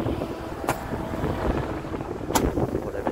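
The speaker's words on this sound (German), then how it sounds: "Oh, der Wind ist aber gut." Wind blows outdoors during a fireworks outing, a steady low rumble buffeting the microphone, broken by two brief sharp noises.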